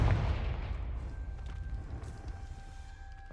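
A Confringo blasting spell in Hogwarts Legacy bursts with a loud, booming explosion at the start, then a rumbling tail decays over a few seconds, with faint tonal game sounds lingering beneath.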